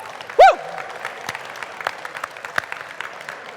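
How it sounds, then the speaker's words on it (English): An audience at a DEF CON 30 talk breaks into sustained clapping after a brief loud whoop, with steady applause continuing throughout at moderate volume and scattered claps standing out. "Give them a round of applause, everybody."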